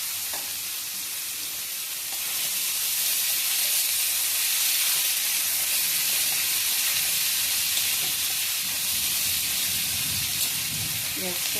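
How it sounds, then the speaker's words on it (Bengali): Chopped onions fry in hot oil with cumin and bay leaves in a pan, giving a steady, loud, close sizzle that continues without a break for the whole stretch. "পেঁয়াজটা একটু ভাজা হবে"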